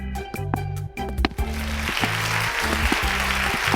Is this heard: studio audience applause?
yes